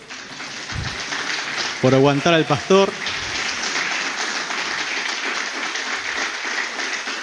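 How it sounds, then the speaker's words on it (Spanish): A church congregation applauds Sonia in a sustained, dense wash of clapping, with a voice speaking briefly over it partway through. "denle un fuerte aplauso a Sonia"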